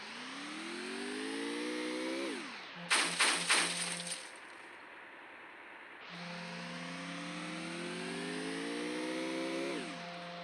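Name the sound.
car driving in video game Free Fire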